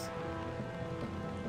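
Soft, even patter of rain falling in the game Don't Starve Hamlet, a faint continuous hiss of drops with no other sounds over it.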